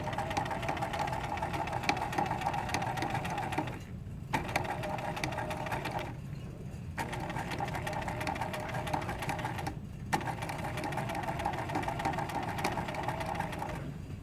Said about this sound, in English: we're going to go do a couple stitches forward, and we're going to back stitch here